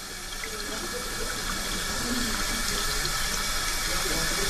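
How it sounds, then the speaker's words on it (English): Room-temperature water runs from a tap into a container during a chemistry demonstration, a steady, close rushing and splashing that holds at an even level for the whole stretch with no talking. "So all I'm doing here is I'm just filling this up with room temperature water."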